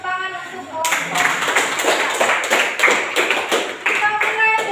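A classroom group claps for another group of students, a short burst of fairly sparse, distinct hand claps following a voice, with speech audible over parts of the clapping.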